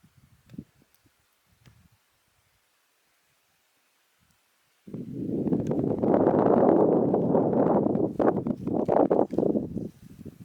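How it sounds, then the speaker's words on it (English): Sharp wind blows on a snow-covered pathway leading into the woods on Roan Mountain. It starts as a few faint buffets, then becomes a loud, sustained gusting roar against the microphone for several seconds. "that wind is pretty sharp"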